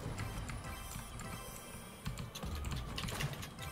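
Computer keyboard keys clatter in quick, irregular bursts as someone plays Rocket League, a close, moderately loud patter of taps with no talking.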